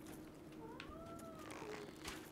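A house cat meows once, a rising-then-falling call of about a second, close by over a steady low background hum and game noise.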